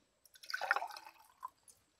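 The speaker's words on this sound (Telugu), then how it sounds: "ఇందులో వాటర్ పోసుకొని" Water poured into a glass to make Spanish MRE chicken soup, a brief, soft splashing trickle with a few light drips after it.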